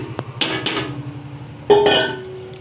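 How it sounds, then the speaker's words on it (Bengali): Fried peanuts tipped into rice in a pan and stirred, a few close metallic clinks and scrapes of a spoon against the pan with a faint hum underneath, no voices. "এবারে ভেজে রাখা বাদামগুলো আমি তুলে দিলাম।"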